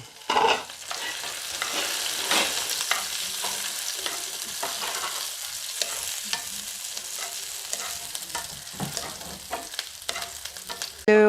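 Curry leaves, shallots and chillies sizzle in hot oil while a spoon stirs them, giving crisp crackling with scraping strokes. A loud burst comes near the start and another at the very end. No voices are heard.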